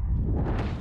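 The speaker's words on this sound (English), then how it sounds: "Grenade!" A grenade blast in the Valorant shooter game, a short, heavy low rumble lasting under a second with a dull whooshing tail.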